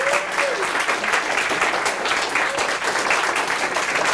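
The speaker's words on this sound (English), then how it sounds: "Give yourselves a clap." Audience at a Staffordshire University Global Game Jam final talk applauds steadily, a dense, even wash of clapping from many hands that holds at full strength for the whole stretch, with a faint voice underneath.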